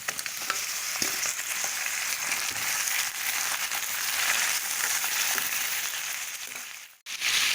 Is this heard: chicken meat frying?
yes